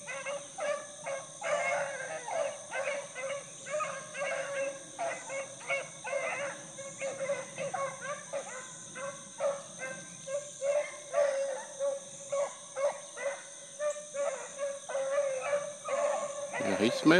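A young hunting dog bays repeatedly while trailing a rabbit's scent, its rhythmic, steady cries carried from some distance through the brush over a constant high electronic whine.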